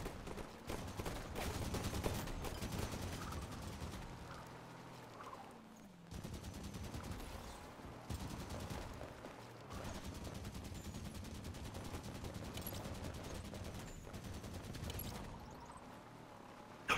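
Sustained video game gunfire with steady rapid rattling bursts of shots at a fairly low level, continuing without pause and with almost no talk.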